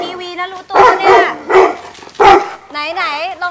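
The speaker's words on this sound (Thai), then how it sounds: "เห่าจนเหนื่อยเลยลูกเอ้ย" A dog on a Thai pet show barks close and loud, giving a handful of sharp, separate barks and finishing with a higher, drawn-out yelp.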